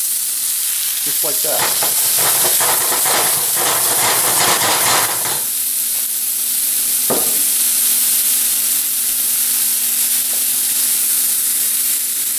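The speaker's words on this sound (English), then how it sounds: "That garlic is browning really quickly, and all of my Brussels sprouts go right in." Brussels sprouts sizzle loudly in a pan with browning garlic, a steady broadband hiss with a burst of clattering as they go in, then continued frying with a brief voice.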